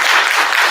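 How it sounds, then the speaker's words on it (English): Brief burst of audience applause for Derek at a self-advocacy presentation, a dense, even patter of clapping cut off after under a second. "Round of applause for Derek."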